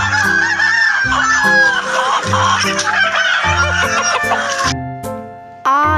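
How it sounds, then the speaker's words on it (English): A rooster crows loudly over a backdrop of clucking fowl and a steady musical accompaniment. "H for hen."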